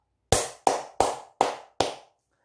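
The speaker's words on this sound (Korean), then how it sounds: "크게 박수 한번 치고 가도록 하겠습니다" Five sharp, evenly spaced hand claps ring out alone, close and crisp, each decaying quickly before the next.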